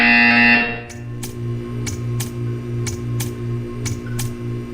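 A Portal 2 test-chamber buzzer sounds as a series of sharp, evenly spaced electronic buzzes, around eight of them, over a low mechanical hum after a brief tonal sound at the start.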